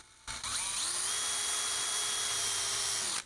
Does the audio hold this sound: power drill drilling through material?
yes